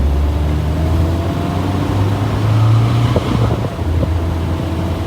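1989 Isuzu Trooper driving, a steady loud low engine drone with wind buffeting and road rumble, and a few faint clunks toward the end.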